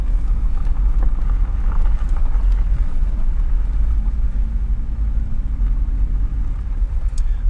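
Car driving over a bumpy, rocky road at Zapata Falls Campground in the San Luis Valley, a continuous heavy low rumble with scattered knocks and jolts and some wind noise throughout.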